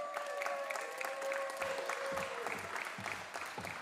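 An audience at a live music show welcoming a musician breaks into applause, a dense steady patter of clapping with a sustained tone ringing through it, heard at moderate distance.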